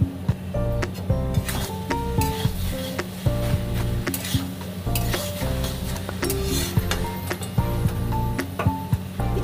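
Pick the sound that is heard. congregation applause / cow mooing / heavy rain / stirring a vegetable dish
stirring a vegetable dish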